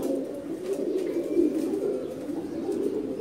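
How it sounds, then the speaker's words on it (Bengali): Fancy-breed pigeons cooing, a Hungarian Budapest pigeon among them, in a loft at a large Dhaka pigeon market, with a continuous low, warbling coo close by and no talk. "এটা একটা ফ্যান্সি জাতের কবুতর।"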